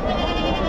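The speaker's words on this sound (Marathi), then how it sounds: "आता हे बोकड आणले ते कोणते आहेत?" A male goat at a busy Bakri Eid goat and sheep market in Chakan, Maharashtra, gives a short, close, wavering bleat over steady crowd noise.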